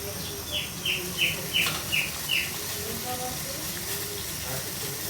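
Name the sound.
dove calling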